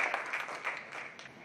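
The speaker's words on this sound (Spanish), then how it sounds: "vamos a brindarle un aplauso de todas maneras a este autor" A small audience at a Spanish-language journal presentation claps for an author in soft, scattered applause heard at a distance, with no talking.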